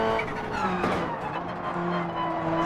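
Subaru WRC rally car in Gran Turismo 7 runs at full throttle in sixth gear, a loud, close engine roar with a brief tire scrub partway through.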